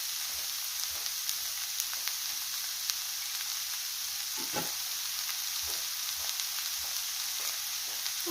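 Sauerkraut stews in a pan with a little added water, giving a steady, even sizzle and bubbling, broken by occasional soft scrapes and taps as a utensil stirs it.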